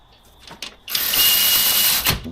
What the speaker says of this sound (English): securing and torquing the caliper